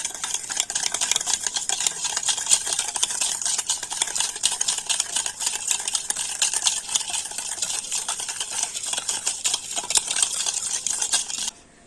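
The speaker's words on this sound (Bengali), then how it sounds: "এবার টক দইটা একটু ভালো করে ফেটিয়ে নেব" Sour yogurt with powdered sugar being beaten in a bowl with a spoon, a steady, fast scraping and clinking of metal against the bowl that runs continuously and close up with no talking.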